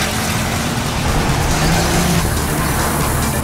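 A Ford Focus RS driven flat out, engine roaring loudly and continuously with rising tone and wind and road noise, close and dominant throughout.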